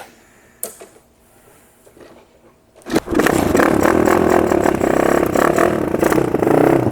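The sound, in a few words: four-stroke pocket rocket motorcycle engine revving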